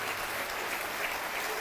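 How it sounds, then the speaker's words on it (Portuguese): A church congregation applauds in a steady, dense burst of clapping that fills the space evenly from start to finish, with no voices rising above it. "Quero que você dê uma salva de palmas para esta palavra"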